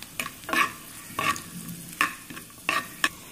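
Grated coconut frying in a pan with cashews and raisins, stirred in quick scraping strokes, several sharp rustling bursts over a soft steady sizzle, close and clear with no voices.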